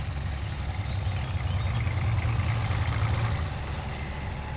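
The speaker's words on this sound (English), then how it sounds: "The sounds of the tractors signal to the black-headed gulls and others that it's feeding time." Steady low engine drone of tractors mowing a meadow, a constant rumble at moderate distance with no breaks.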